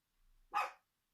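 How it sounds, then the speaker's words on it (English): A single dog bark, short and fairly close, after a faint low rumble, with no talking. "That dog's gonna start."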